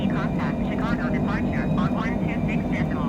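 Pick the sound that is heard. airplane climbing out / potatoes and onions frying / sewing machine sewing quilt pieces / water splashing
airplane climbing out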